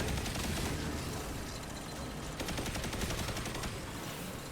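The Heir Apparent machine gun in Destiny 2 fires a dense, unbroken stream of rapid shots, loud and sustained throughout with no pauses.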